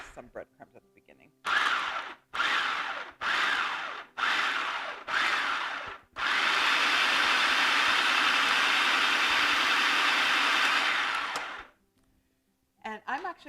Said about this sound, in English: I don't have the best food processor, and I may have had a little bit too much liquid in here